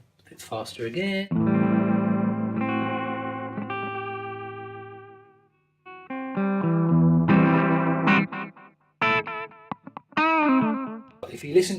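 Sustained distorted electric guitar notes ring out through a TC Electronic Flashback delay pedal, with one bent note heard on the repeats and fading echoes trailing after, broken by short pauses and brief spoken moments.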